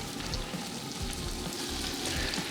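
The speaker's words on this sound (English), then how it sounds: "Okay, chucking the tomatoes in now." Tomatoes tipped into hot oil with crushed chilies and spices for a Durban curry, frying in a steady, close, continuous sizzle with faint stirring and no talk.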